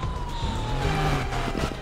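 Police car siren wailing steadily through a chase in the video game GTA V, loud and continuous with a slowly gliding tone over engine and traffic rumble, no voices.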